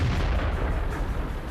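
M4 Sherman tank cannon fire in a video game battle on Malnikova, heard as a sustained, loud low-frequency boom and rumble filling the short moment with no voices.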